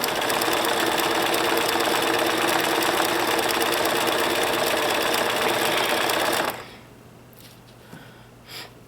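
Sewing machine running steadily while stitching a satin stitch applique, a loud continuous whir lasting about six seconds before it stops abruptly, leaving a faint hum and a couple of small clicks.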